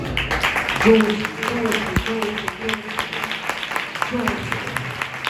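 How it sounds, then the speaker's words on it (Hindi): A church congregation at a Sunday prayer meeting claps together in praise, a scattered burst of hands under a preacher's ongoing amplified voice and music in the hall. "मैं चाहता हूँ परमेश्वर के लिए ताली बजाइए।"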